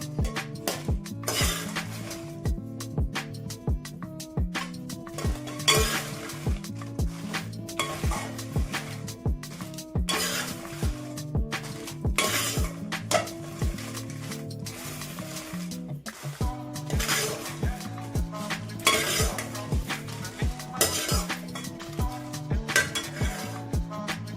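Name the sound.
dry red chillies frying and being stirred in a pan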